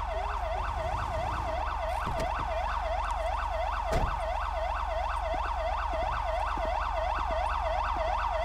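A wailing police car siren in the video game GTA 5 cycles rapidly up and down in a steady repeating pattern, loud and continuous, with a low engine rumble and a thump underneath.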